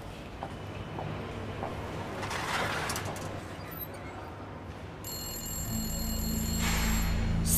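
An old-style telephone bell rings indoors in a domestic scene, a sustained electric ring that starts partway through and grows louder over ambient room noise.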